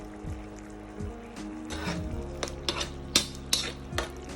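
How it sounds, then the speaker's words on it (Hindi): Manchurian sauce stirred in a pan over a high flame, with a spoon scraping and clinking against the metal in irregular strokes and a steady sizzle beneath, close and moderately loud. "और ये बना रहे हैं हम बिल्कुल ही हाई फ्लेम में।"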